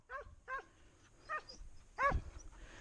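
Several hunting dogs on a wild boar hunt bark at a distance in short separate bursts, with quiet gaps between them and a low rumble underneath.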